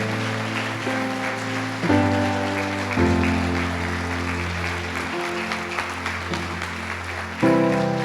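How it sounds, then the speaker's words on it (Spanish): A Pentecostal church congregation applauds during a Sunday morning service, a dense, steady wash of clapping with sustained organ or keyboard chords beneath it that shift pitch every few seconds. "Dele la gloria al Señor en esta mañana con un aplauso."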